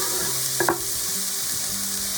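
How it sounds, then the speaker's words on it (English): Olive oil, about three tablespoons, sizzles in a pan over medium-high heat while brown-rice fried rice is being made, a steady broadband hiss with a brief louder crackle near the middle, no voices. "I'm gonna put some olive oil."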